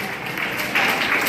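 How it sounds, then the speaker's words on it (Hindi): Brief, continuous burst of audience applause for a costumed performer at a traditional cultural workshop award event. The clapping is dense and even. "जोरदार तालियां खुशबू के लिए।"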